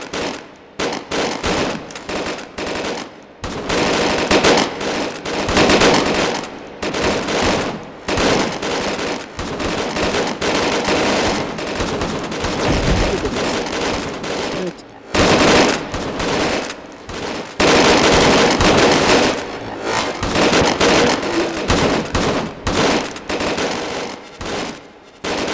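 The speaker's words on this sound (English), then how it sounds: "he sort of has these machine guns on his side that fire bursts of 3 to 6 projectiles" Machine guns in the VR shooter H3VR fire in loud, close bursts of three to six rounds, repeated rapid volleys broken by brief pauses over a long stretch of gunfire.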